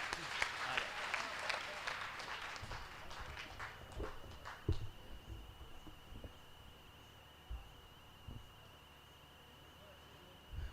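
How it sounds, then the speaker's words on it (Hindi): Applause from the audience at a Hindi kavi sammelan (poetry gathering) held for a guru's birth celebration, a dense crackle of clapping loudest at the start that thins into scattered claps and thumps over the following seconds. "एक बार जोरदार तालियां बजाएं।"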